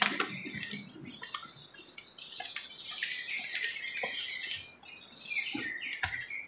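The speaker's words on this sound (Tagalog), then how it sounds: "Kahit isang ibon hindi ko nakita pero ang ingay nila." Unseen birds chirp and tweet continuously in a forest, a busy chorus of high calls with faint rustling underneath.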